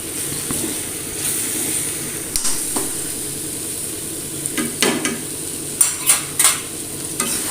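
Fenugreek-leaf potato curry with ghee being stirred in a pan, with a soft steady sizzle and several distinct scraping strokes of the spoon, sparse at first and more frequent toward the end.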